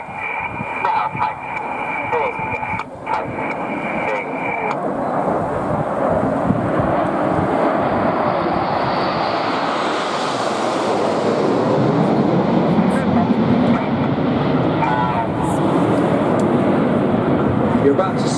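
Red Arrows jet aircraft flying a display formation at the 2014 Portrush air show, a loud, continuous roar of jet engines that swells and sweeps past overhead, with a commentator talking over the noise.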